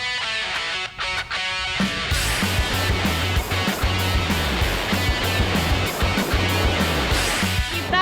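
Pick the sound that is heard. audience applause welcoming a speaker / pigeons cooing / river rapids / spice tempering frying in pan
river rapids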